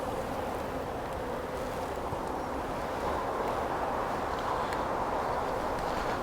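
Honeybees buzzing around nuc colonies during hive work, a dense, continuous hum close by that stays level throughout.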